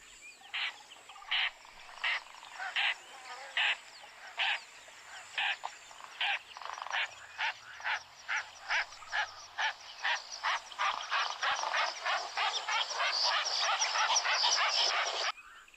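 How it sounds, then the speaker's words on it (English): A lilac-breasted roller gives a long series of harsh, rasping calls, starting as spaced single notes and speeding into a rapid, louder, continuous chatter, close and clear with no talking. "it was in fact a lilac breasted roller"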